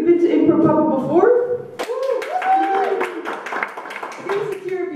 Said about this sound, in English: Give us a cheer if you've been to ImproBubble before.